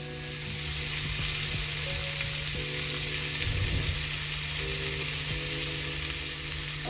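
Steak sizzles steadily in a pan on medium-high heat, a loud continuous hiss with faint tonal hum in the background and a brief stir or shift of the meat.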